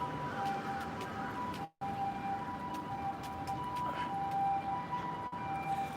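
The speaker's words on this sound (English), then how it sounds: "We got an ambulance coming on down here." An ambulance siren sounds on an overcast early-morning Tokyo backstreet, a steady wailing tone held at moderate distance over street noise, with one brief dropout midway.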